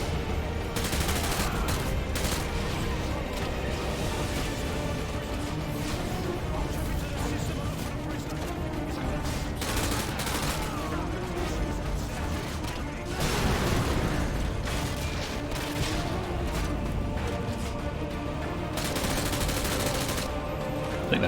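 Gunfire in the video game Modern Warfare 2, a continuous heavy clatter of rapid shots and booming blasts with mechanical clanks, loud and steady throughout while a voice talks over it.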